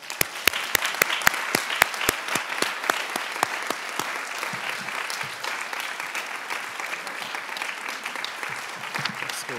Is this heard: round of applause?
yes